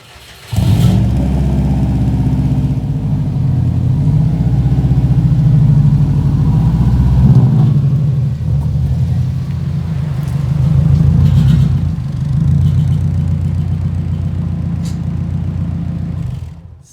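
A 2007 Subaru Impreza WRX wagon on a test drive after a CV axle replacement gives a steady loud engine drone from inside the car, rising and falling gently with throttle, with no talking throughout.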